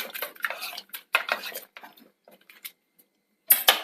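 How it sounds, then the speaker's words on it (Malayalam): A spoon clinking and scraping against a pot while lentil and snake gourd curry is mixed with salt and water, a few short metallic knocks separated by pauses, close and fairly quiet. "നന്നായിട്ടൊന്ന് മിക്സ് ചെയ്യാം."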